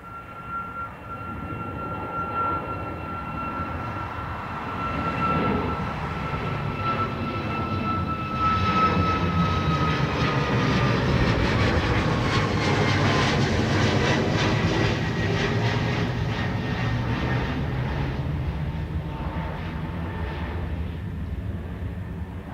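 Aircraft engines at Dublin Airport produce a sustained loud roar with a high whining tone, swelling and then easing as a plane passes nearby, with no voices heard.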